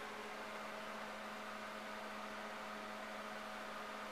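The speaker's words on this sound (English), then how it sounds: "That sound you hear is my microwave going." A steady, low electrical hum with a constant drone, like a running microwave oven, continuous and unchanging throughout.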